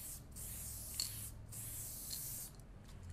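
An aerosol spray-paint can hisses in several short bursts separated by brief pauses, the spray fairly close but soft in level.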